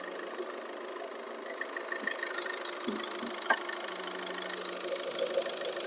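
A 2013 Skoda Octavia A5 with a 1.6 TDI diesel engine and automatic gearbox idles smoothly, a steady mid-pitched engine hum with faint knocking, heard close and without talk.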